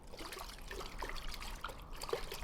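Water trickles faintly from a newly burst desert spring, the Zamzam well, a quiet, continuous dribbling gurgle with small bubbling pops and no voices.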